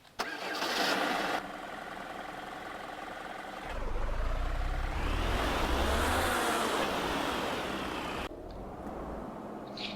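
A Renault truck engine in Euro Truck Simulator 2 cranks and starts, then settles into a deep idle, with a rising rev and revving in the middle before it drops back down. The sound is loud and close, with no voices.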